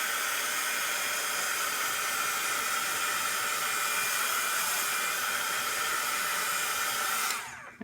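A heat embossing tool blows a steady, loud hiss of hot air to dry archival ink on a stamped card, running continuously before cutting off at the end.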